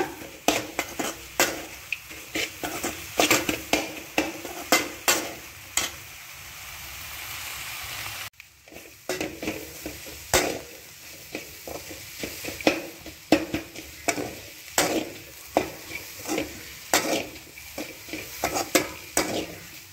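Drumstick leaves and egg fry in ghee while a spatula stirs and scrapes against the pan, making repeated close metallic clinks and scrapes over a steady sizzle, with one brief pause.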